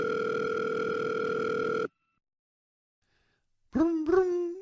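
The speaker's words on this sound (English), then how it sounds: "What the hell kind of dial tone is that?" A steady telephone dial tone sounds loudly for about two seconds and then cuts off, followed by silence and a brief burst of odd rising electronic tones at the end.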